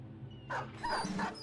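A dog in the Battle Brothers video game gives a few short yelping barks and whimpers, close and fairly quiet, over a low background hum.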